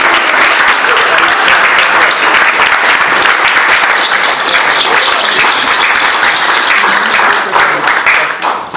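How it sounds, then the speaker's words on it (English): A large crowd at a political gathering breaks into loud, sustained applause and clapping that stays dense and close for several seconds before starting to fade at the end. "So let's give a big round of applause for the people."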